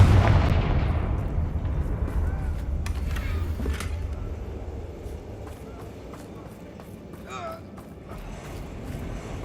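A Confringo spell blast in Hogwarts Legacy: a loud booming explosion at the start that decays into a rumbling tail, followed by scattered smaller cracks and faint effects.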